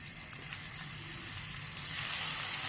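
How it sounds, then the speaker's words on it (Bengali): Halved pieces lightly frying in a pan give a steady, close sizzle with a broad crackling hiss that grows louder toward the end, with no talking. "এগুলোকে এখানে হালকা করে ভেজে নেবো 2 পিঠ।"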